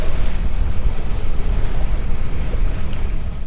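A small sailboat out on the open North Sea in midwinter, with loud, continuous wind roar and waves rushing against the hull, heavy buffeting noise close to the microphone and no voices.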